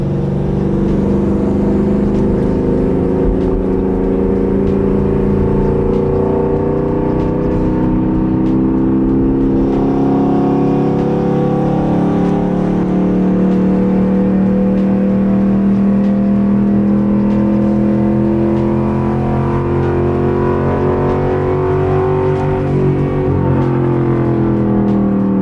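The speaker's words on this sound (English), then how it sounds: "Don't watt it, but just gradually and then now start giving it gas" A Ford Mustang engine revs and accelerates in one loud, sustained pull, the pitch climbing smoothly over about 25 seconds before easing slightly near the end, close and with no talking.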